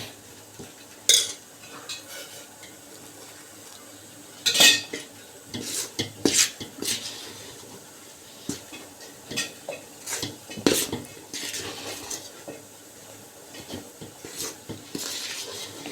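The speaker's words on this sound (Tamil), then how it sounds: "நல்லா கலந்து விட்டுக்கணும் கட்டி இல்லாமல்" Sweet kozhukattai flour mixture is stirred in a pan, with repeated metal spoon scrapes and clinks against the pan in an uneven rhythm over a faint background hiss, close by and with nobody talking.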